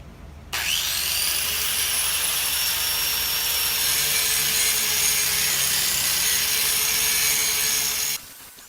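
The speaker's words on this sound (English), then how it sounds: "This should grind off a lot more metal, a lot faster." Angle grinder with a coarser disc grinding down the steel of a railroad track section being shaped into an anvil, a steady loud abrasive whine held continuously for about eight seconds before cutting off.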